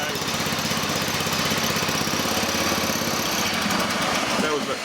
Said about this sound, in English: we'll just engage the blade. There we go, nice and clean, running clean, no knocking.